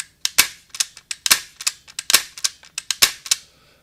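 Airsoft MK.23 pistol clone cycling its action, firing about fourteen sharp, close mechanical snaps in an uneven rapid rhythm, with no talking.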